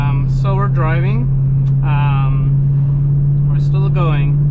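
A BMW E92 M3 drives while warming up, its engine a steady, loud low drone running continuously beneath someone talking inside the car.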